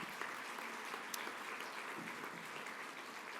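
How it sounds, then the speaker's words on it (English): An audience gives faint, steady applause for a high school string training band, a soft wash of clapping heard from a distance throughout. "That's worth a round of applause right there, I think."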